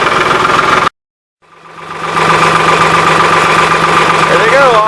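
A diesel truck engine runs loud and close, a rough, knocking idle that cuts out abruptly for a moment before the rumble swells back in and holds steady.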